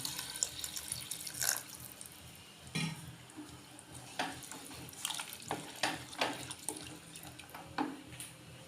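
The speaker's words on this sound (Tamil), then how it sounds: "தேவையான அளவு தண்ணி விட்டுக்கலாம்." Water poured into a cooking pot of sprouted chickpeas for chana masala, a steady running splash with bursts of louder gushing and sloshing, close and without talk.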